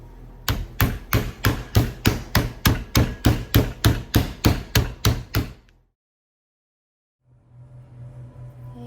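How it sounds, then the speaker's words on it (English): Meat mallet pounding chicken flat between sheets of plastic wrap: about twenty evenly spaced, loud, sharp thuds in a quick steady rhythm, then a pause of near silence before faint room hum returns. "So we're just going to hit this until it's flattened."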